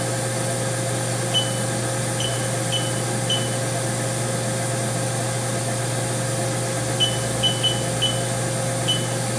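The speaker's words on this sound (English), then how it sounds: "Next we'll go ahead and fire up the spindle." The spindle of a Haas VF2 vertical machining center turns at a steady 2,000 RPM with a constant mechanical hum and whine, broken by a few short, soft electronic beeps.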